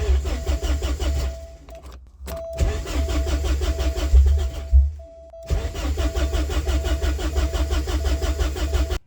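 A Porsche 944 project car with a newly fitted battery cranks over in several loud, rhythmic bursts of starter churning. Short silent pauses separate the bursts, and no one talks over them.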